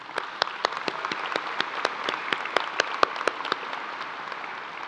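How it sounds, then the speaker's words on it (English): High school commencement crowd applauding two teachers, a dense continuous patter of many hands clapping with sharper individual claps standing out, steady throughout. "Please join me in a round of applause for these two teachers."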